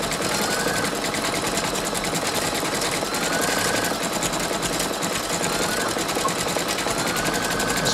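A Brother Innovis 2800D embroidery machine stitches a design in a large 6x12 hoop, a steady fast needle rattle running continuously and close, with no voices.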